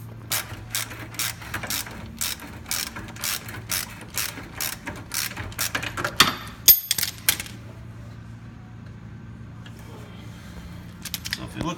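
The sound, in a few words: ratchet and breaker bar loosening subframe bolts, 1/2-inch drive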